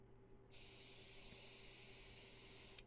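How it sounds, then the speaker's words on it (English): A magic spray in the video game Treasure Hunter Simulator gives one steady, bright hiss lasting a little over two seconds, starting abruptly after a brief quiet moment and cutting off cleanly. "Use the magic spray."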